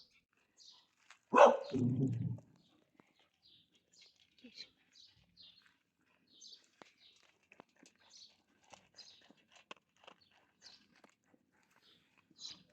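A single loud dog bark close by, followed by quiet stretches with scattered small bird chirps in the distance.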